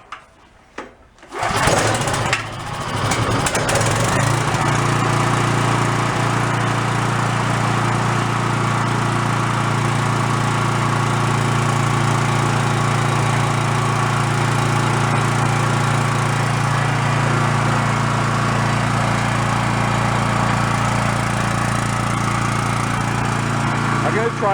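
A small generator engine started with the choke fully on: a brief clatter of pull-starting, then the engine catches and runs at a loud, steady, close drone for over twenty seconds.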